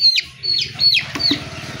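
A colour bird broiler chicken on a farm gives four or five quick, high, squeaky clucks close by while being picked up for weighing, then falls quieter.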